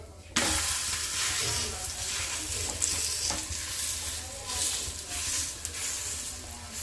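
Rice flour adai sizzles and crackles steadily in a hot pan just after being flipped, a continuous close frying hiss with occasional soft scraping, and no voices.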